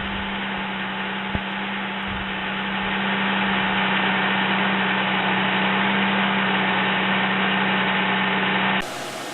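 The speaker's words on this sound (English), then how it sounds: "here's the engine running afterward" A Pontiac Montana minivan engine idles after a harmonic balancer replacement, a smooth steady hum close by with a faint click near the start, running unbroken until the sound cuts off near the end.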